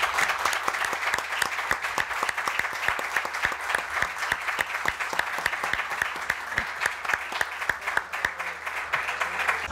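Steady applause from a room of people at a farewell press conference, a dense rattle of many hands clapping at once, sustained and even throughout.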